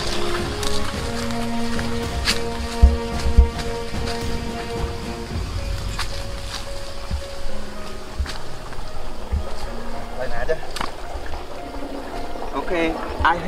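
Water flowing out of the output pipe of a drum pump drawing from a big river: a steady watery wash with splashing and gurgling runs throughout, mixed with outdoor background noise.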